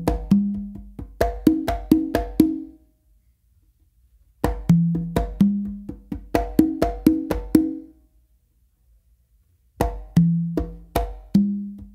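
Full conga exercise combining palm closed slaps with ringing open tones across three drums, in three phrases of rapid hits broken by brief silences, close and with no voice.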